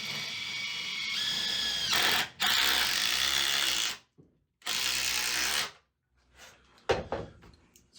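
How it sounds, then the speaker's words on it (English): DeWalt Atomic stubby impact driver driving a screw into wood: two loud sustained bursts of rapid impacting hammering, each lasting a couple of seconds, followed by brief fainter rattles and clicks. "So I've got this atomic stubby impact driver."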